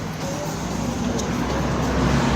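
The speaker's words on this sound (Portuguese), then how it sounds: "Passando um ônibus pra Craças aqui, velho." A bus passes close by on a city street, a steady broad roar of engine and road noise that swells slightly toward the end, with general traffic rumble around it.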